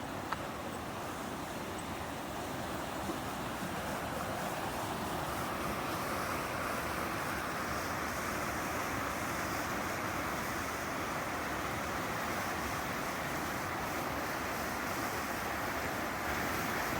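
Steady broadband rush of the Poudre River flowing beneath a bridge at County Road 103, loud and continuous throughout with a constant roar and no voices.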